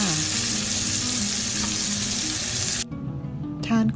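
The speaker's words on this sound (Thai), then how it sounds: "เป็นเนื้อบดก้อนทอดที่กี่ในน้ำมันบางๆค่ะ" Minced meat patties (Frikadellen) fry in a thin layer of oil with a loud, dense, close sizzle that holds steady, then drops abruptly to a quieter crackle near the end.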